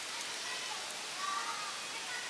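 Rain falls steadily on a street in Sylhet, a soft, even wash of hiss at low volume with a faint voice underneath.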